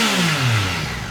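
Yamaha R9 sport motorcycle engine revving hard on its stock exhaust, a loud close throaty roar with pitch sweeping downward over a short burst.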